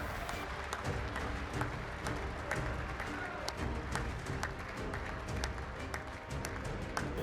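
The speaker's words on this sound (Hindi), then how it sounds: "उन ऐलानों की गूंज तालियों की गड़गड़ाहट से महसूस की जा सकती थी।" Sustained applause from a large audience in the US Congress during a Trump speech, a dense steady roar of clapping with faint crowd murmur, loud and continuous throughout.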